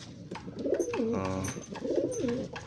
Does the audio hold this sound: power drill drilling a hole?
no